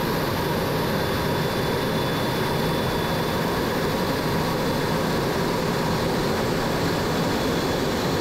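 A formation of MiG-17 jet aircraft comes in to land at an airshow, its engines a loud, continuous roar and whine that holds steady throughout with no pauses.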